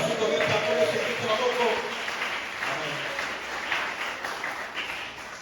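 A church congregation applauds and acclaims throughout, a steady broad wash of clapping with voices mixed in, moderately loud and sustained without a break.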